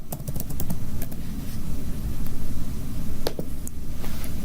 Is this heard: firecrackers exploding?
no